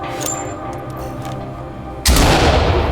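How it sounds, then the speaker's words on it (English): A flashbang detonates during a SWAT raid on a bio research center in the video game Ready Or Not. One sudden, loud, close blast cuts through a low ambient hum, followed by a sustained roaring ring. "Open clear with flashbangs"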